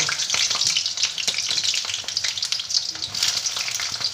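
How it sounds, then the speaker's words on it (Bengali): Chopped eggplant frying in hot mustard oil gives a loud, dense, continuous sizzle close by, with faint stirring clicks underneath and no talk. "প্রথমে আমি এই কুটে রাখা বেগুনগুলোকে ভেজে নেব"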